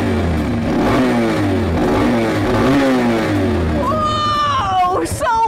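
A motorcycle engine revs hard as the throttle is twisted, loud and close, its pitch surging up and down in repeated bursts, with voices talking and exclaiming over the roar.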